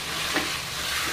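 Chopped tomatoes with a little salt hitting a hot wok, a steady bright sizzle throughout with a faint stir scrape, close and fairly loud, no voices.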